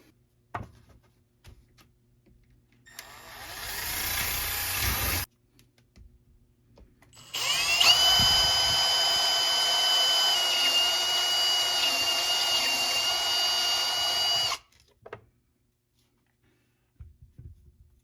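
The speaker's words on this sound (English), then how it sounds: "So we'll get that drilled out." A power drill bores a hole through a plastic container for an ice-fishing glow cup, running in two steady high-pitched bursts of a few seconds each, the second longer, with quiet handling noises between and after.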